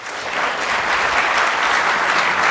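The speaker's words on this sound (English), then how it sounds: "I would like to invite Dr. Anas Alhajji with a warm round of applause to take the floor" A lecture audience breaks into a dense, warm round of applause welcoming a speaker to the floor, sustained and fairly loud throughout.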